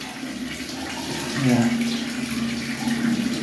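Cold water pours steadily during a bath, a continuous rushing splash with a brief voice over it, close and fairly loud throughout.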